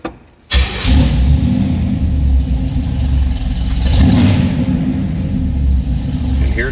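A 1968 Chevrolet C10 with a fresh 283 V8 cranks and fires, then settles into a steady, loud low rumble close by, with a brief rev in the middle.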